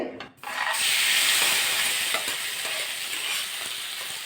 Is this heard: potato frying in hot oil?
yes